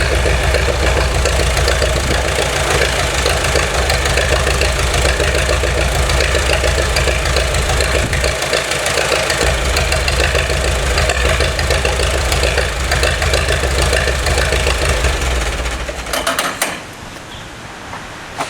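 A 1936 Allis Chalmers tractor engine runs loud and close with a steady, rough idle for about sixteen seconds, then cuts out and sputters to a stop, leaving quiet.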